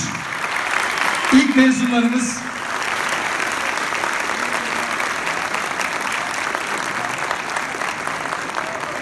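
A crowd keeps clapping for fourth-year students, the first graduates, at a university recreation evening; a voice speaks briefly over the early applause, which then continues as an even, sustained wash.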